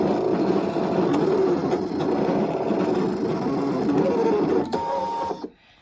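A Brother ScanNCut 650W cutting machine cuts a built-in shape with a loud, steady mechanical whirring and buzzing, punctuated by faint clicks, running continuously for about five seconds before stopping abruptly.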